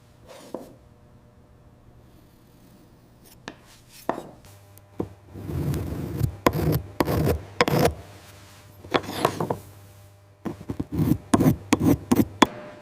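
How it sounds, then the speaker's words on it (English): Wet ceramic castings of plates and bowls being trimmed of casting lines in a factory, with irregular scraping and cutting strokes in short clusters, close-up and fairly quiet, separated by pauses and set against a low hum. "Skillful trimming removes the casting lines."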